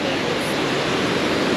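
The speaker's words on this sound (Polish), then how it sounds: "73 metry wysokości ma ten tutaj oto wodospad" A 73-metre waterfall in Vietnam pours in a constant broadband roar, dense and unbroken, with no voices.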